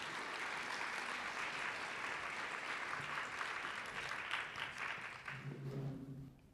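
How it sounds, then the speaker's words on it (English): Audience applauding a guest speaker at a personalized medicine talk, a steady wash of many hands clapping that fills the room for several seconds before tapering off, with a voice starting near the end. "please give a nice round of applause for Greg Sungales."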